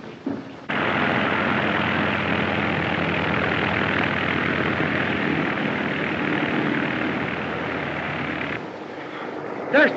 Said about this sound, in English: There's Dorothy's plane. We can chase him in that